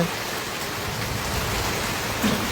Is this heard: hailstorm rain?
yes